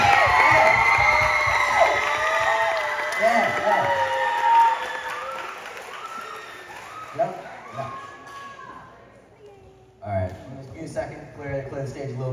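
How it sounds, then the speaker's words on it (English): An audience at a stage show applauds and cheers after the final act, a loud mix of clapping, whoops and shouting voices that thins out partway through before a fresh burst of cheers near the end. "Let's have one more round of applause for every talented person up here tonight"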